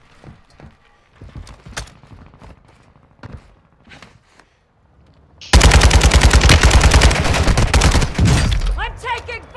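Sustained machine gun fire in Call of Duty Warzone erupts midway, loud rapid automatic bursts after a quieter stretch of scattered footsteps, faint movement sounds and muffled voices.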